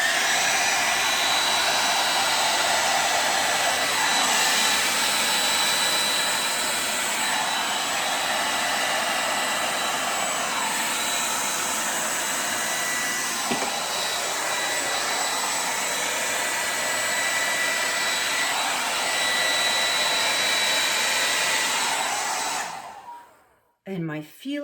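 An air blower runs loud and steady for about 23 seconds, spreading a pour of acrylic paint for fluid art, then cuts off abruptly with a few brief sputters at the end.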